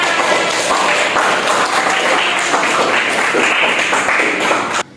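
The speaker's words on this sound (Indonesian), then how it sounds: "Tepuk tangan untuk kita semua." Dense, steady classroom applause from many hands fills the room at close range without a break, then cuts off abruptly at the end.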